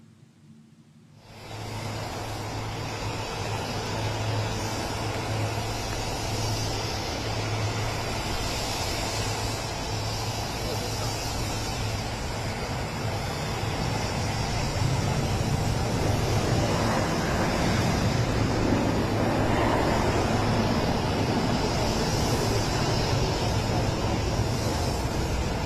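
Motorcade cars pull away after a meeting between two presidents, a steady broad outdoor rumble of engines and tyres with wind, holding at moderate loudness throughout and swelling slightly near the end.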